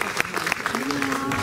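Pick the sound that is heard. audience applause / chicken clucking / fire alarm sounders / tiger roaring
audience applause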